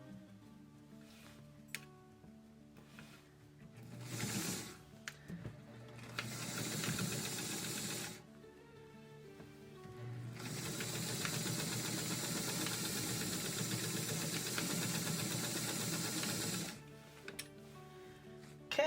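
Sewing machine stitching back and forth across the elastic of a fabric scrunchie, bursts of motor whirring broken by short pauses, the longest run in the middle, close and moderately loud.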